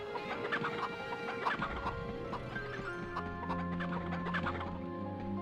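Chickens in the video game MediEvil give a busy run of clucks, heard over steady game music and ambience, with no one talking.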